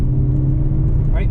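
A car accelerating hard on an autocross course, its engine droning loudly and steadily up close while a voice talks over it.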